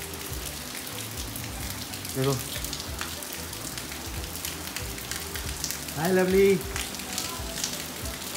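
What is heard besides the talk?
heavy rain falling outside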